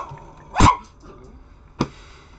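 Dogs indoors give two sharp barks, a louder one and then a shorter, clipped one about a second later, close by in an otherwise quiet room.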